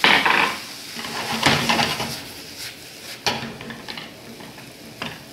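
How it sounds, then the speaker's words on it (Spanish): Tomato and bacon sauce with consommé and black pepper cooks in a pan, giving a steady soft sizzle broken by several sharp scrapes and clinks of a utensil stirring against the pan, close by with no talk. "Lo vamos a dejar que se guise un poco más"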